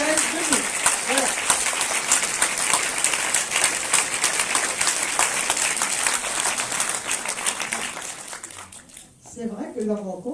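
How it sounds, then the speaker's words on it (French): A festival audience at a musical comedy event gives two guests sustained, loud, dense applause that fades out near the end as a voice resumes speaking. "Je voudrais qu'on les applaudisse."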